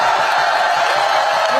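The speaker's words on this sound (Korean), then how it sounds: "시민 여러분, 큰 함성과 박수를 보내주시기 바랍니다." A crowd at an outdoor political campaign rally cheers and claps in a brief, dense roar of shouts and applause.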